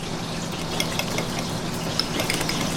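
A utensil stirs roasted garlic seasoned with salt and pepper, giving soft scraping and light clinking against the dish over a low, steady background hiss, with a few faint taps and no talking.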